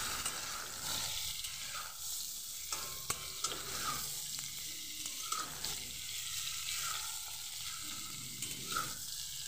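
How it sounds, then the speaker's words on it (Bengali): Ridge gourd and potatoes fry in a pan with a constant close sizzle, broken by scraping stirs and occasional clicks of a spatula, with no voices. "ভালোভাবে আলুটার সঙ্গে ভেজে নেব ঝিঙেটাকে।"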